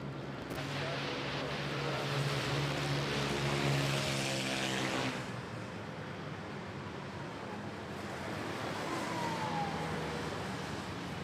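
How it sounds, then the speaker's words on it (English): A Philippine Airlines A330 airliner arriving at Manila Airport roars loudly and close, a steady jet rumble that swells, then eases into a broad, fading whoosh as it passes. "Philippine Airlines A330 arriving from Puerto Princesa."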